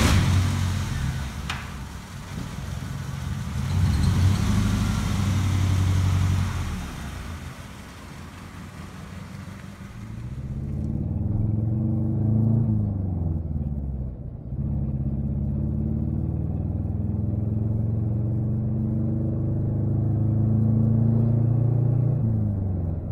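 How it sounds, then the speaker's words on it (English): A Saturn car's 1425cc three-cylinder engine, running with its number 3 cylinder deactivated, drones and rumbles steadily while driving, with low harmonic tones rising and falling through gear changes; no one speaks. "with the three-cylinder version, it has more power, but the engine also sounds terrible"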